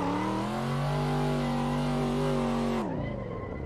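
Race car engine in the Assetto Corsa driving game, a steady loud held rev with strong harmonic whine for nearly three seconds, then the pitch drops sharply as the revs fall off near the end.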